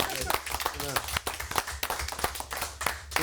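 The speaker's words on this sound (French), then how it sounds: "On peut applaudir Hugo Lopez." A studio audience on a French morning radio-TV show claps in a brisk, uneven burst, with voices talking over the clapping throughout.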